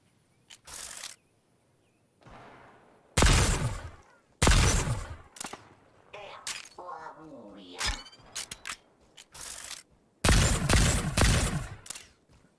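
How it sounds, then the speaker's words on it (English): Gunfire in the video game Fortnite, several loud bursts and single shots spread through the stretch with quieter mechanical clicks and rattles between them, close and punchy. "Hey, shooting."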